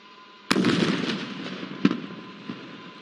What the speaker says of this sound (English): Please take your attention to the terror hideout Tango 11 on your right to witness the kamikaze kinetic strike.